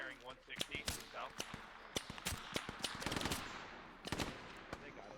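Gunfire in the military video game ARMA 3: a dense stream of sharp rifle shots and automatic bursts, some close and loud, others more distant, crackling irregularly over a steady background rumble.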